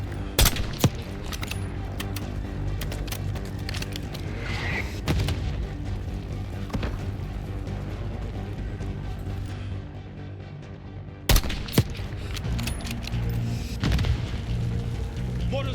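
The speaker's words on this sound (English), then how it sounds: "We gotta stop those mortars." Black Ops 6 combat with mortar strikes and gunfire: a continuous barrage of rapid shots and deep booms, with sharp louder blasts near the start and again toward the end.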